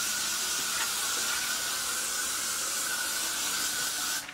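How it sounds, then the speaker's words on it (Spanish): Hairspray hisses steadily from a spray can onto a new synthetic wig, a continuous close airy spray lasting several seconds before cutting off at the end, with no talking. "Le voy a pasar otro poquitico de spray."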